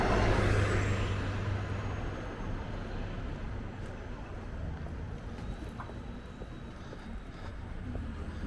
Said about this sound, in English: As a southbound bus approaches.